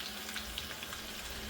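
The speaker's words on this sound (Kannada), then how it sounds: "ಬೆಳ್ಳುಳ್ಳಿನ ಹುರಿತಾವೆ ಎಣ್ಣೆ ಒಳಗೆ." Garlic frying in oil for raw mango pickle, a brief, fairly quiet crackling sizzle with light popping spatters, heard close up.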